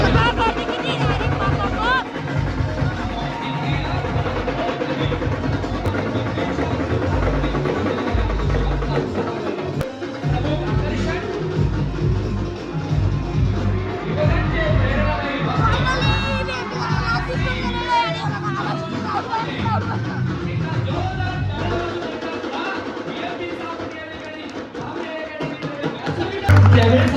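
Large crowd chattering at a Marathi event, a dense continuous babble of many voices near and far, with children's voices and scattered taps mixed in throughout.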